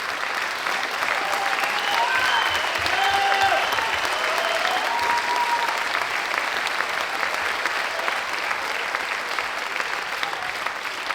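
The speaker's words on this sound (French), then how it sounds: "applaudissez-les en même temps" An audience applauds children performers in a hall with sustained, dense clapping, a few voices and cheers mixed in, fading slightly toward the end.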